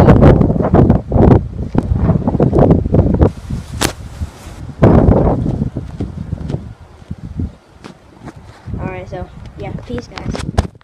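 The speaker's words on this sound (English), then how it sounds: "I think y'all can hear the wind." Gusty wind buffets the microphone outdoors with loud rumbling bursts that rise and fall, and a voice is heard amid the gusts.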